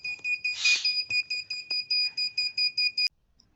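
Buzzer alarm on a water level monitor signalling a full tank, a loud, shrill electronic tone pulsing in about a dozen rapid, even beeps before cutting off abruptly into near silence.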